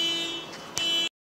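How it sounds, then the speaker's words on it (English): A car alarm blares with a steady high electronic tone in the background, briefly broken by a click, then cuts off abruptly, with no voices. "Somebody's car alarm decided to start blaring in the center of my video"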